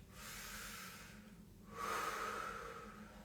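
Slow, deep breathing during a neck stretch, a soft hiss of inhalation fading out before a stronger, steadier exhale, close and quiet with no talking.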